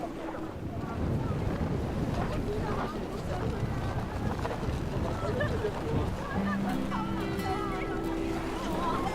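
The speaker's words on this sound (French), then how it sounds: "C'est venteux. Très venteux." Strong cold wind blows across a high Alpine glacier area near the Jungfrau, a constant roaring rush over the microphone while people talk throughout.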